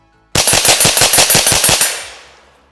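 Exotic .22LR ammunition fired from a Rossi and a TX rifle: a rapid burst of about ten loud, sharp, close cracks in even succession, then a short fading echo, with no talking.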